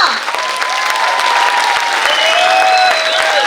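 Loud, dense applause from a large crowd at a birthday celebration honoring Saalumarada Thimmakka, steady and sustained throughout, with faint cheering mixed in.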